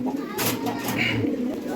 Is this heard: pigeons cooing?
yes